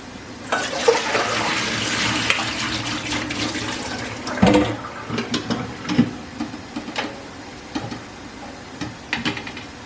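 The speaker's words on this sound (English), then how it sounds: "I'm going to wash my beans" Beans being washed under a running kitchen tap: a steady rush of water with scattered clatters and splashes as the beans are stirred and shaken, close and moderately quiet.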